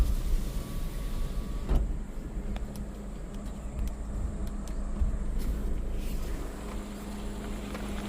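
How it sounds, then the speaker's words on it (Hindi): A vehicle approaches from behind on a dirt jungle road, a steady low engine rumble and tire noise building faintly under outdoor ambience with a few brief knocks. "तो पीछे गाड़ी आ गई"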